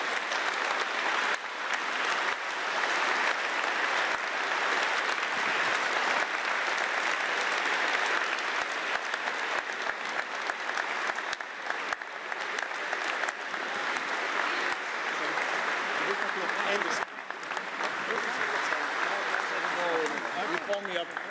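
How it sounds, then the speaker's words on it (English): A large conference audience at an EU leaders' industry summit in Antwerp applauds steadily and loudly for the German chancellor, a dense, continuous clapping that fills the hall throughout. "welcome the Bundeskanzler of Germany, Mr. Merz, with a warm applause"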